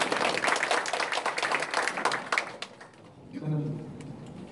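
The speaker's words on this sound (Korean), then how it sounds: "큰 박수 부탁드리겠습니다" An audience at a ceremonial exhibition event in Sacheon claps in a busy burst of applause that fades out after a few seconds, followed by a voice speaking.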